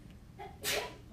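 A single short, sharp sneeze bursts out partway through, close and loud against a quiet background of low room noise.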